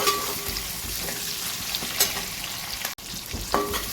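Chopped onion fries in a pan, giving a continuous close sizzle with occasional stirring scrapes and small pops throughout.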